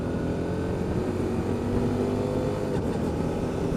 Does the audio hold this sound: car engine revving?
yes